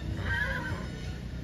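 A horse whinnies once, a clear rising-and-falling neigh near the start that trails off over a steady low background rumble, with faint hoof-like knocks underneath.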